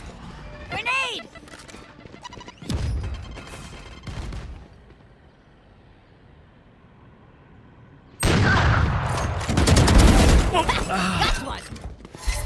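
Grenade blasts and bursts of gunfire in the video game Valorant, loud clustered explosions and rapid shots separated by a quieter lull, with voices talking over the action.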